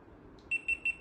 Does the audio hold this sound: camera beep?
yes